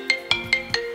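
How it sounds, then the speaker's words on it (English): A phone ringtone plays a rapid run of five bright electronic notes in a regular rhythm, close and clear with no voices. "That is a ringtone."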